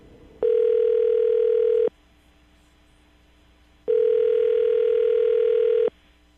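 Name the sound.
telephone dial tone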